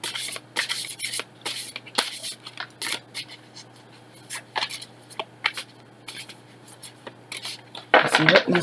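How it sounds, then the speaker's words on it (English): Tarot cards shuffled by hand in quick, papery riffles and slaps, close and fairly soft, stopping and starting, with a brief louder rustle at the end. "So hard to shuffle."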